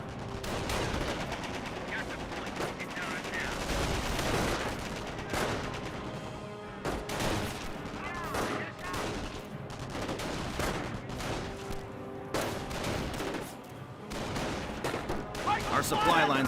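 Rifle and machine-gun fire crackle continuously through a Company of Heroes battle, with dense overlapping shots and distant explosions sustained across the whole stretch.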